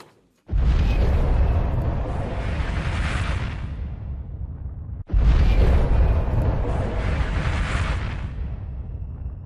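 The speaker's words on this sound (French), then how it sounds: "puis déflagration, thermonucléaire en plein air, au-dessus de Moruroa" Two long roaring blasts from an open-air thermonuclear test explosion above Moruroa atoll in archival footage, each starting abruptly and rumbling loudly for several seconds with heavy low-end, the second following right after the first.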